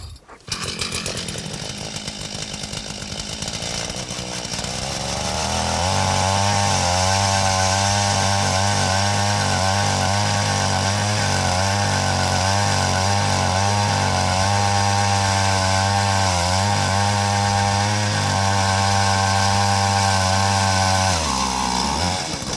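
A gas-powered ice auger starts and revs up, then runs loud and steady with a harsh buzzing drone for many seconds as it bores a hole through lake ice, before cutting off at the end.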